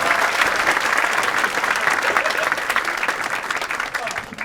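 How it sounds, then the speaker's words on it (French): Dense, loud applause from an audience at a comedy show, continuous clapping that fills the space evenly and thins slightly toward the end. "Mais on peut l'applaudir quand même"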